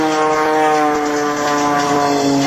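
A steady, loud propeller-engine drone with strong harmonic tones, an Extra 300 aerobatic airplane flying continuously overhead without pause.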